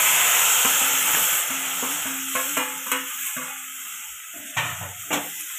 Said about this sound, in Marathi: मटकी चांगलं 2 ते 3 मिनिट चांगलं परतून घ्यायचे, सगळं हलवून घ्यायचे आपण